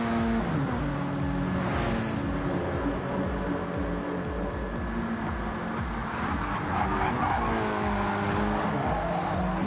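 WTCC touring cars racing at Brands Hatch on the final lap, engines droning with shifting pitch, tyres squealing through corners, a continuous loud mechanical roar with a commentator's voice underneath.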